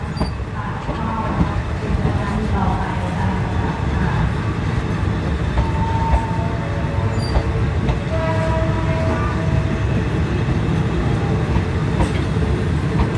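A train running through Muak Lek railway station in Thailand, a steady loud rumble of wheels and cars with clattering and occasional squeals and tones, continuous throughout with no talk.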